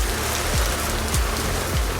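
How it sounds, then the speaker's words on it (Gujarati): Dense, continuous rain pattering on a surface, loud and close, with a low rumbling undertone throughout. "આ જુઓ વરસાદ કંઈ દેખાતું નથી"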